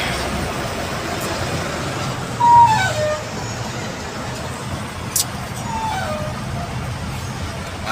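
Slow, congested morning traffic on the toll road at KM43 heading toward Cikampek: a steady bed of engine and road rumble with a short louder swell from a nearby vehicle and a couple of faint tonal toots.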